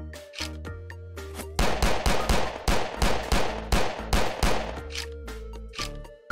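Gunfire in a Unity multiplayer video game plays as a steady run of loud, punchy shots, roughly two or three per second, set over a droning synthetic music tone, with several sparser shots at the start and end.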